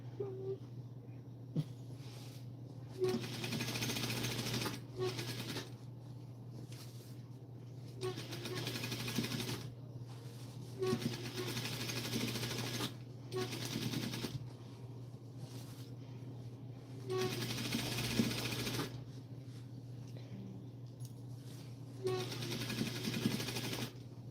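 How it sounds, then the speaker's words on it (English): A sewing machine hums in bursts, starting and stopping repeatedly over a steady low background drone, fairly quiet and close. "sewing machine humming again."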